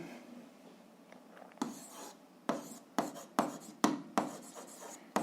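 Pen writing out an algebra solution by hand on paper, a run of short scratchy strokes, close and fairly quiet, with no talk.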